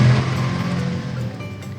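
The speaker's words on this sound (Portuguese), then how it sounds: "um pequeno carro com uma grande arma começou a se mover na tela" A small car fitted with a big gun moving in a mobile phone game, heard as a brief engine drone that hums steadily and fades away, with no talk over it.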